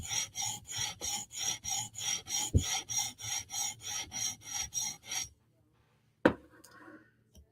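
Vero Synapse and Berg skate blades are sharpened with a file or stone in about sixteen even rasping strokes, each a short gritty scrape in steady rhythm. Silence and a couple of sharp knocks follow.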